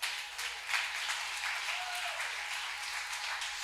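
A church congregation applauds during a pastor's sermon, producing steady, dense clapping that fills the room and holds at an even level without letting up.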